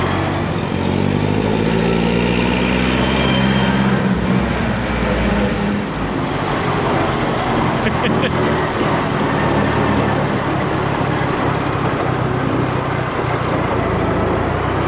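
A governed Volkswagen Beetle engine drones steadily while driving in third gear, high range, a loud continuous close-up hum with a slight shift in tone partway through and no talk.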